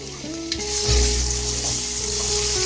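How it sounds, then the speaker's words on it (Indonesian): Loud, steady sizzling of ground seblak spice paste frying in a hot wok, with occasional scraping and stirring, plus a faint background hum. "Setelah bumbu yang tadi dihaluskan, masukkan pada wajan yang udah disiapkan."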